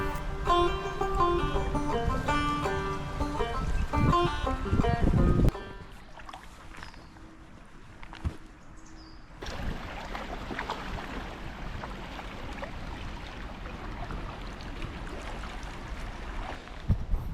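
Packrafts paddling down the River Spey after passing Aviemore, with steady flowing water and paddle splashes running throughout, partly beneath music at the start.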